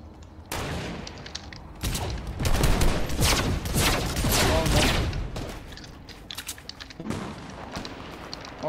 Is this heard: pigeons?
no